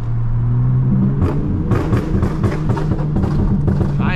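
V6 Dodge Charger exhaust burbling while driving around the block, a low rumbling drone that breaks into a rapid series of crackling pops and burbles, close and loud with no talk.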